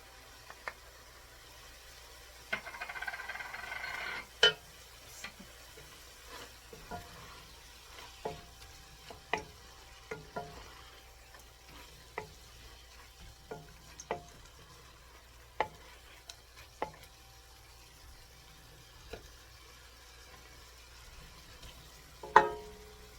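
Onions and chopped garlic frying in a pot give a faint, steady sizzle, with a run of light spoon clicks and taps from stirring scattered throughout.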